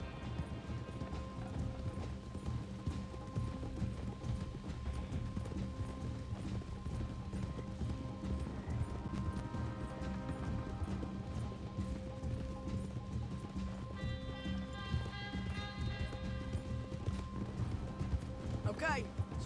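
Horses gallop in Red Dead Redemption 2 with a continuous rhythmic clip-clop of hooves and creaking tack, under a steady game soundscape and occasional voices talking over it.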